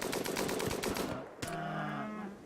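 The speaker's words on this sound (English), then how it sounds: "To shoot at this boomlope." Rapid gunfire aimed at a boomlope in RimWorld, a dense burst of repeated shots lasting about a second, then a single louder crack followed by a lingering low drone.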